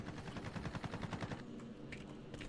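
Rapid automatic gunfire in a video game, a player shooting down from a prison rooftop in a match with the LW3 Tundra, a quick rhythmic burst of about a dozen shots followed by a few scattered reports, moderately distant.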